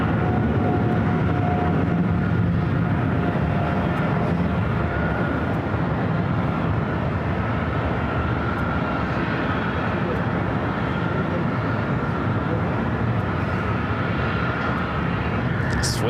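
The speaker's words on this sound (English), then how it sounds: "Swiss Flight 401 heading back to Zurich and that 777 to 300 ER, taking off on the south side at runway 25 right" Swiss Boeing 777-300ER taking off from runway 25 right at LAX, a continuous loud jet engine roar that stays steady for the whole stretch, with voices talking over it.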